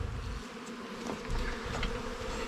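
Bees from an old wild hive in the woods, with heavy propolis lines on the boards, make a steady, dense buzzing at close range that carries on without a break.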